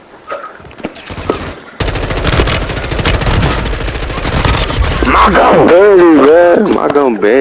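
Gunfire in Call of Duty Warzone opens after a couple of quiet taps and becomes loud, sustained automatic fire, with a person talking excitedly over it toward the end.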